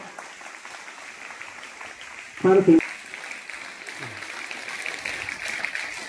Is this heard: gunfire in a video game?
no